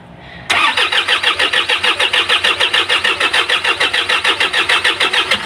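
An overheated Isuzu 4HL1 engine cranks briefly and catches, settling into a loud, steady rhythmic chugging close by with no talk over it.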